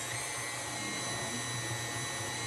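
An electric mixer runs steadily at low speed, beating cheesecake batter with cornstarch added, a constant loud motor whir with no talking.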